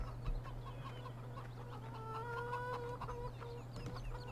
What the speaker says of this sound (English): Make a little trip over to the chickens.